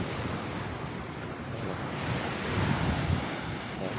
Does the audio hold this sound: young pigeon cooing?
no